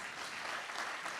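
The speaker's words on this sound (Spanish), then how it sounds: "Un aplauso, por favor." A church congregation claps in a steady, dense burst of applause, moderately loud and sustained throughout the short moment.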